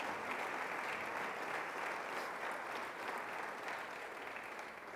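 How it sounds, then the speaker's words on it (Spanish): A church congregation applauds during a sermon, a dense, even roar of many hands clapping that holds steady for several seconds and sounds fairly distant and full. "Démosle un aplauso al Señor, hermanos"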